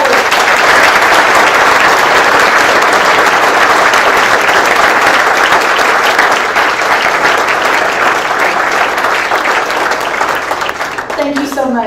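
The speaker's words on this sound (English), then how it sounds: "One more round of applause" A large audience claps at a constitutional conversation with the Texas Attorney General, sustained loud applause filling the room and tapering only at the very end.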